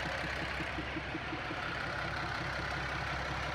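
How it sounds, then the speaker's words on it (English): A Mercedes-Benz OM352A turbo diesel in a Unimog overlanding truck, rebuilt and tuned for around 200 horsepower with a water-air intercooler, idles with a steady, even low rumble throughout, heard alone. "The truck is powered by a Mercedes-Benz OM352A turbo diesel."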